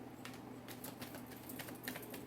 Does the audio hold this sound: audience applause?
no